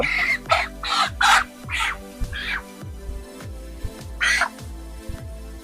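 Broiler chickens on a poultry farm cluck and squawk close by in repeated loud bursts, with a dense low chorus of the flock continuing underneath.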